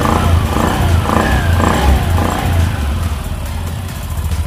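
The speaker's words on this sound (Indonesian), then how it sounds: "tinggal kita hidupkan sepeda motornya" A Honda Beat scooter engine runs steadily after reassembly, a close, even idle with a low pulsing throb and light mechanical clatter throughout.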